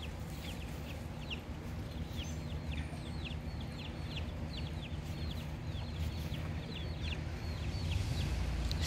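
Two-week-old baby chicks cheep in a steady stream of high, repeated peeps over a low constant background hum, close by and continuous.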